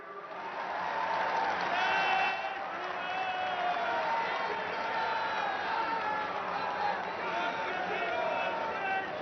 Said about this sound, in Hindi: तालियों का जयघोष रुकना नहीं चाहिए